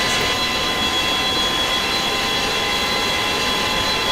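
A jet airliner engine runs up in a flight simulator during a Corfu-to-Zakinthos flight: a loud, continuous whine and roar with steady tonal hum, no voices.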